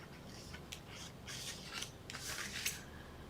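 Scissors cut along score lines in paper, a few quick crisp snipping and slicing strokes close up and faint, with quiet rustling between cuts and no talking.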